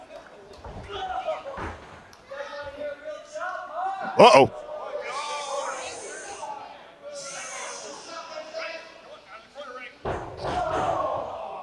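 In a wrestling match, a wrestler stomps an opponent on the ring canvas with a few heavy thuds that stand out amid crowd noise and commentary.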